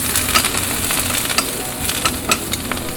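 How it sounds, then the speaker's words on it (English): Garlic and olive oil sizzle steadily in a saute pan, a close, dense crackling hiss with small pops throughout. "just garlic and olive oil in a saute pan"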